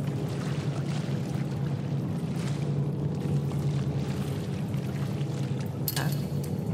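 In the horror game The Door in the Basement, a character wades through water in a steady sloshing stream, with a brief brighter splash near the end.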